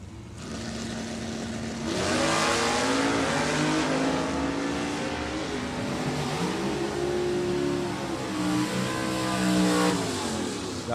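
Super Stock drag race cars, among them a Corvette, roar down the strip at a divisional drag race, with loud engines rising in pitch as they accelerate and several overlapping engine notes sweeping up and down, with no talking.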